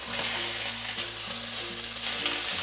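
Sliced onions and raw green beans fry in a pan for a prawn laksa, giving a steady, close, loud sizzle with no voices.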